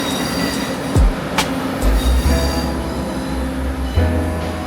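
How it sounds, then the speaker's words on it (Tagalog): A train rolls past near Shifen Old Street in Taiwan, loud and close, with steady rail rumble, wheel squeal and clattering over the tracks, passing continuously throughout. "Dumaan yung train, no?"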